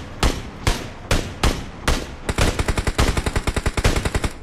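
Gunfire in a shooter video game: several separate single shots spaced about half a second apart, then a rapid automatic burst of evenly spaced cracks, loud and close with no talk over it.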